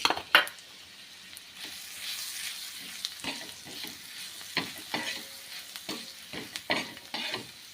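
Green chili thecha with salt sautéing on a tawa over low heat, soft sizzle punctuated by repeated metal spatula scrapes and taps at an uneven rhythm, close and moderately loud.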